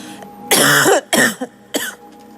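Two or three harsh coughs in quick succession, loud and close, followed by a shorter cough, with quiet room tone between.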